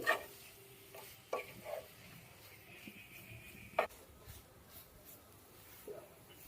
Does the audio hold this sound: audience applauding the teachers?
no